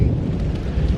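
Low rumbling thunder rolls through steady rain outdoors, a loud continuous boom-like wash with wind noise and no voices.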